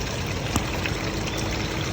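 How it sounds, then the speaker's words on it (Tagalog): Hot water flows steadily at a spot visited while touring Japan, giving a constant close rushing, pouring wash with no talk. "Yung umaagos na tubig is mainit."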